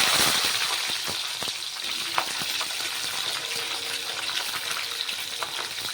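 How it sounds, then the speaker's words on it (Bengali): Capsicum pieces frying in hot oil for chili chicken, giving a steady close sizzle and crackle throughout with occasional stirring clinks and no talk. "ক্যাপসিকামটাকে কিছুক্ষণ তেলে ভেজে নেবে"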